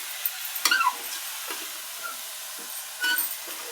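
Basmati rice frying with biryani masala in a pan for veg biryani, a soft sizzle with scraping stirs at irregular moments, close and fairly quiet.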